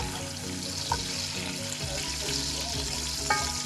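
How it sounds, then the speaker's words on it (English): Onions fry in hot oil while being stirred, giving a dense, continuous sizzle with occasional scraping clicks from the utensil, close and fairly loud with no talking. "I'm going to stir it nicely so my onions can break up apart and also fry without getting burned."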